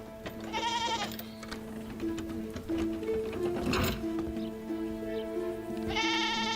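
A goat lets out two loud, wavering bleats near the start and end, over a steady mechanical hum and scattered background noise.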